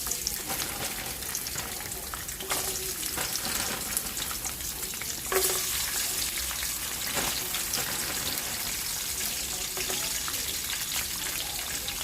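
Fries bubbling and sizzling in hot oil, a dense continuous crackle at steady loudness for the whole stretch with a few brief clinks and stirring knocks.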